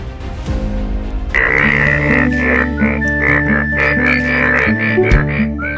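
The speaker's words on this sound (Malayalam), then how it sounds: "കാസർഗോഡ് വേനൽ മഴയിൽ നിറഞ്ഞ തവളകൾ" Yellow frogs croak in a dense chorus after summer rain in Kasaragod, loud and close, with rapid overlapping calls and a steady high trilling layer running through the whole stretch.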